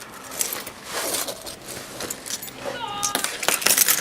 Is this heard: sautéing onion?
no